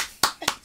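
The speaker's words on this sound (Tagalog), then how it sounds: "Palakpakan. Nice. Ako lang pumalakpak." A lone person clapping in a small room during a casual podcast chat, giving two or three sharp, close claps spaced apart with a short voiced sound at the end.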